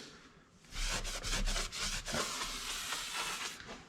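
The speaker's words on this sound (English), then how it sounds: "Once you scrape the main body of the grout off, it cleans off super easy." Grout being scraped out of a tile joint before caulking, a steady close-up rasping and rubbing with several sharper strokes, no voices.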